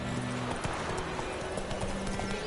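Roach the horse walks in a video game, her hooves clip-clopping in a steady, moderately quiet rhythm of soft thuds.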